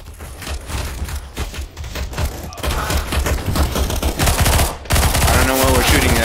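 Counter-Strike: Global Offensive gunfire, loud bursts of rapid automatic shots and single cracks mixed with thuds, with a brief voice in the mix.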